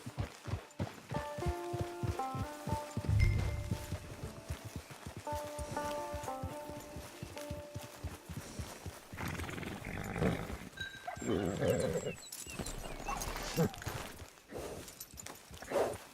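Hooves clip-clop in a steady rhythm, joined partway through by rougher snorting and neighing from a horse nearby, over a soft musical background, in the video game Red Dead Redemption 2.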